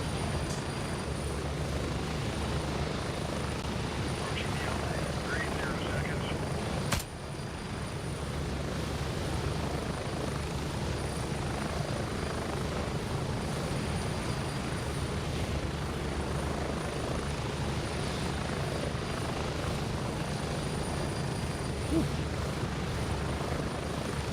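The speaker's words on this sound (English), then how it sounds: "Get to the chopper!" Helicopter in the Gray Zone Warfare military shooter drones loudly and continuously with a steady rotor rumble and engine whine, heard from inside or right beside the aircraft, with one brief thump partway through.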